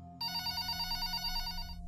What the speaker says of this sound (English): when the home phone rings